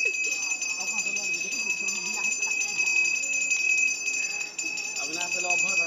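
A puja bell rings steadily and brightly during a household prayer, sustained throughout, while people talk over it.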